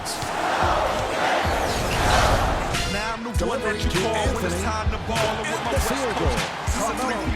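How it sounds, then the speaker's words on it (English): Arena crowd noise from the NBA Live 10 basketball video game: a loud, continuous roar of spectators with bouncing-ball thuds and shouts, with sharper sneaker squeaks and court sounds emerging midway. "you can always turn the broadcasters off and listen to the otherwise excellent arena and crowd noise"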